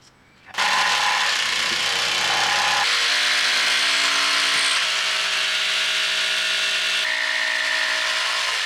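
A power tool starts up and runs continuously, cutting 15mm notches into wooden bench legs, a loud close whine whose pitch shifts as it bites into the wood, then holds steady until it stops, with no speech.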